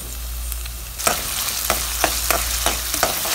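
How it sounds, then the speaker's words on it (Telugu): Onion, green chillies and ginger-garlic paste fry in hot oil for a potato keema curry, giving a close, constant sizzle broken by several sharp stirring scrapes at an uneven rhythm, with no talking. "ఇది పచ్చివాసన పోయేంత వరకు ఫ్రై చేయండి."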